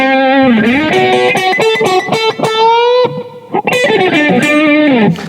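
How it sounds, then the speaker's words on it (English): Electric guitar played through a NUX Cerberus multi-effects pedal with reverb, loud distorted sustained notes and bends with brief pauses, trailing reverb tails between phrases. "I can play around with the decay of the reverb as well."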